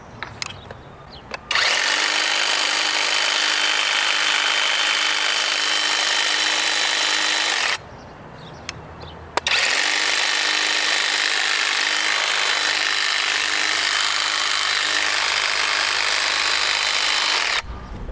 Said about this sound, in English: Sound test, Ego power trimmer.